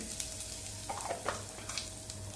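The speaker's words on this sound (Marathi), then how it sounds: "जिरे मोहरी चांगले फुललेले कढीपत्ता घालूया चमचा हिंग घालूया" Curry leaves and asafoetida sizzle in hot oil after popped cumin and mustard seeds, making a faint, even hiss with small crackles. The tempering is brief and quiet, with no voices.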